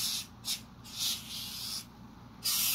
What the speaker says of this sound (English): I'm going to spray a little bit of accelerant on everything